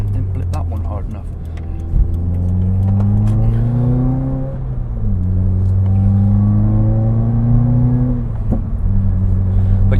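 A 2016 Subaru WRX engine revs up and down with quick throttle blips, the pitch climbing and dropping several times from inside the car, while someone talks over it.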